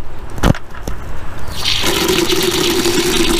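Water splashed and sprayed onto the bone-dry paint of a Camaro, starting as a steady hiss partway through after a couple of sharp knocks, close and fairly loud with no talking.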